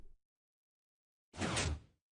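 A Minecraft redstone airlock door shifts in a video game, a brief soft thud followed after a pause by a louder sliding whoosh lasting about half a second, with no talk.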